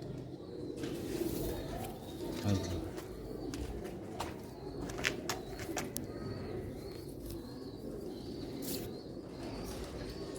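Sialkoti pigeons coo softly now and then amid a busy outdoor backdrop, with scattered wing flaps and shuffling steps nearby.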